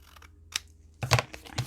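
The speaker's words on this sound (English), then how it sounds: "Now I'm going to completely finish trimming this." Paper being trimmed for a junk journal, heard as a few short, close crisp cutting or snipping bursts with quiet gaps between them and no voices.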